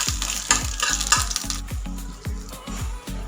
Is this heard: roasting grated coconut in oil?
yes